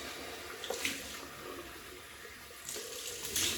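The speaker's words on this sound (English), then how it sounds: "Cold water rinse." A tap runs cold water for a rinse after a traditional wet shave with a rich shaving cream. It gives a soft, steady flow, with brief louder splashes as hands move through the stream, and nobody talks.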